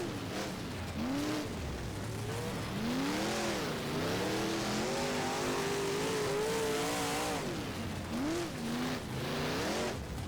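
A Big Block Modified race car in the rFactor racing game revs and warbles its engine pitch up and down while spinning out on a dirt oval, with tyre noise throughout and no talking.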